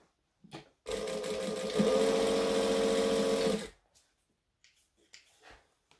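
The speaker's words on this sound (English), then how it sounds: "I'm just going to stitch and backstitch and stitch and backstitch" A sewing machine stitches and backstitches along a seam of a tote bag, running in a steady close mechanical whir for about three seconds, briefly changing pitch midway, then stopping, with faint handling clicks before and after.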